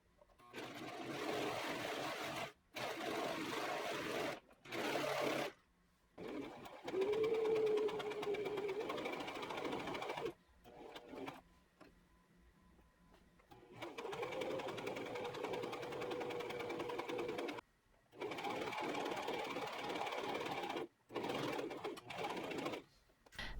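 A serger overlocks the edge of fabric for a bias-cut maxi dress. It runs in several bursts of steady whirring and clatter, separated by short pauses, with a faint bird call in the background.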